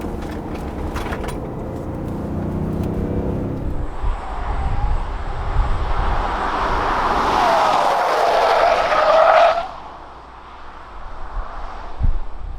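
A 2020 Kia Mohave SUV cruising on a highway, a steady broadband rush of road and wind noise holding loud and even for most of the stretch before dropping off near the end.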